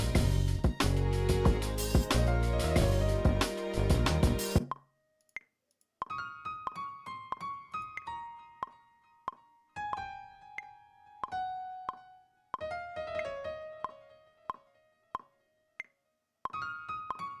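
Piano notes ring out after a loud opening burst, each note followed by quarter-note delayed repeats that echo and fade in a steady pulse.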